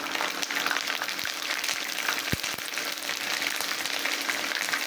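Whole spices frying in hot oil for a beef biryani, a dense steady sizzle with occasional sharp pops, close up.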